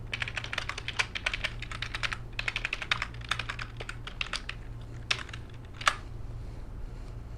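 Password being typed on a computer keyboard in quick bursts of clicky keystrokes with short pauses, a steady low hum underneath and no voices.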